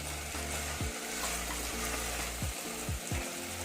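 Ingredients for a rajma curry frying on a high flame, a continuous hiss of sizzling oil with periodic scraping strokes of a spoon stirring the pan.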